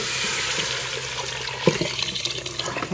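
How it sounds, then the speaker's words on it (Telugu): Water poured into a pot of fried vegetables and washed Sona Masoori rice for bagara rice, a steady gushing pour that breaks into uneven splashes and gurgles toward the end. "కడిగి పెట్టుకున్న రైస్ వాటర్ వేసేసుకోవాలి"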